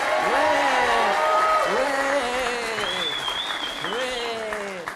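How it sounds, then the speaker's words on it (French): A studio audience on a French game show applauds as pizzas are brought in, steady clapping under a loud voice speaking with rising, sing-song intonation, plus a brief whoop. "on peut applaudir les pizzas apportées par JR"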